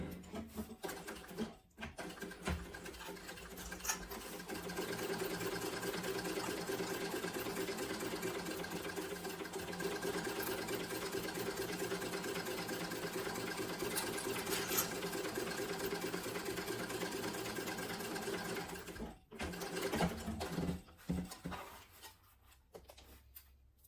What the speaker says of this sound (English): So you're sewing from the inside out.